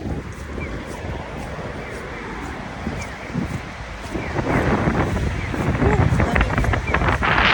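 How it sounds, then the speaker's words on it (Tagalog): Strong wind blows on a snowy day beside a highway leading to Chubu Airport, roaring and buffeting the microphone, rising louder over the last few seconds. "Lakas ng hangin."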